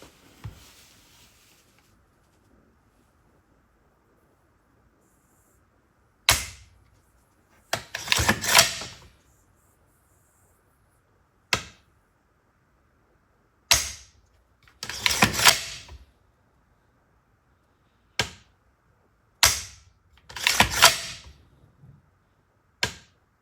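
The trigger of an FN SCAR 17S fitted with a Geissele Super Scar trigger is pulled and reset in a quiet room. Isolated crisp clicks come in small clusters, separated by several seconds of near silence.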